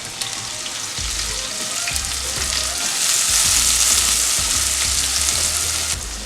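Garlic, scallion, pimento berries, Scotch bonnet pepper and thyme sweating in coconut oil in a pot for ackee seasoned rice, a steady close hiss of sizzling that swells midway, with occasional soft stirring knocks and no talking.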